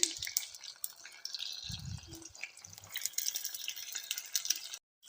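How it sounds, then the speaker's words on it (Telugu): Cut eggplant frying in a couple of spoons of oil in a pan, a soft, steady sizzle with light crackles and occasional stirring clinks, fairly quiet, with no talking. "పాత్రలో ఒక రెండు స్పూన్లు ఆయిల్ వేసి ఈ వంకాయ కట్ చేసి దీంట్లో వేసి వేయించుకోవాలి"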